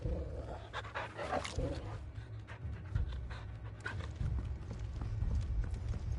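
Dogs in the Final Fantasy XVI video game pant and bark amid a busy rumble of game action and footfalls, with a cluster of yelps early on and steady low-end noise throughout.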